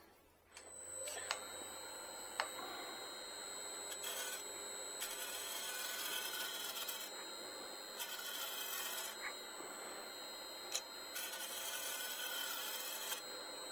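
A scraping tool works the inside of a wooden workpiece spinning on a lathe, producing a continuous rasping, whirring scrape with rhythmic pulses and occasional sharp ticks, steady and close, with no talk.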